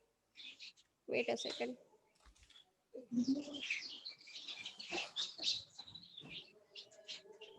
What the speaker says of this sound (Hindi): मैम चिड़िया के बोलने की आवाज आ रही है.